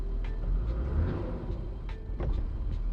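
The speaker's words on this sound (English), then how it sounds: "See, it drops out, it stalls. So every time I accelerate, it drops out a little bit." A car engine idling near 900 RPM is revved, then falters and drops out as if about to stall; a steady low rumble swells and sags with a few faint clicks on top, nearby and without talk.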